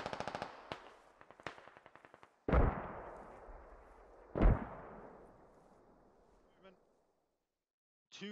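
British mortars firing in the video game Squad: several sharp distant reports, then two heavy booms with long rolling echoes that fade out, and a faint thump at the end.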